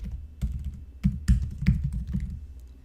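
Rapid keyboard typing up close, uneven bursts of clicking keys with brief pauses, no voices.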